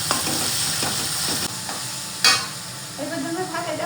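Onions and tomatoes fry in a pan with a steady sizzle and occasional stirring scrapes, with a brief louder burst partway through and a faint voice near the end.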